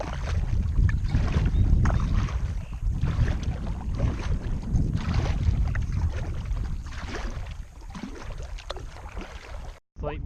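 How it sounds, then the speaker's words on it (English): Steady broadband wind and water wash around a kayak on a choppy lake, continuous and fairly loud throughout, with a brief dropout near the end and no talking. "Slight breeze out here."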